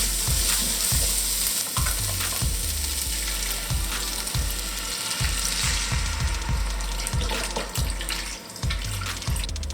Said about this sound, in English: now it's time to add the stock